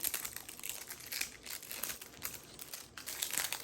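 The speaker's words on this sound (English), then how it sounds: "I figured y'all probably didn't want to hear all that crinkling." Close, continuous crinkling and rustling of thin plastic wrap, crackling in quick irregular bursts with no voices.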